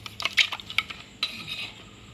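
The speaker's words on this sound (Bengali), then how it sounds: "দিয়ে এটা আমি সুন্দর করে নেড়ে নেব" A spoon clinks against a glass or bowl while stirring wood apple sherbet, several light, bright taps and scrapes in quick irregular succession, close and fairly quiet.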